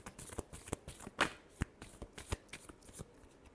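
Tarot cards are riffled and shuffled in a rapid series of crisp, close papery slaps and flutters, a clear final shuffle with no talking.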